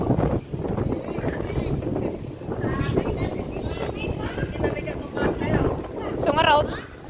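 Wind buffets and rumbles against the microphone in uneven gusts while people talk over it.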